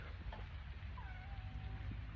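Goku, a cat that has just jumped onto a gate, gives a drawn-out, wavering meow at night, a single faint, thin call over quiet background hum.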